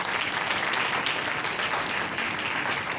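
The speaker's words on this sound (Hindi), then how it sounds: "तो उनके लिए भी एक जोरदार तालियां होनी चाहिए" A crowd at a Republic Day school celebration in Gujarat, India, claps in dense, sustained applause, steady and moderately loud for the whole stretch.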